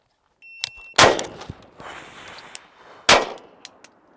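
Two sharp, loud pistol shots about two seconds apart ring out during a one-handed transition drill, each followed by a metallic clang of steel targets, with faint pings and rattles between.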